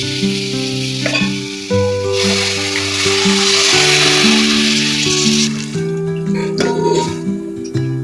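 Ground masala and tamarind juice sizzle in a pan under steady background music, the frying hiss swelling in the middle and fading again, with a few light clinks of stirring near the end.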